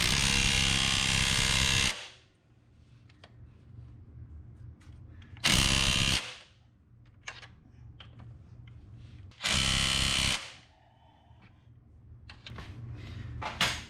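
Power tool driving the engine and transmission mount bolts on a 2005 Honda CR-V, three loud whirring bursts of about two seconds each, separated by quieter clanks and handling noises.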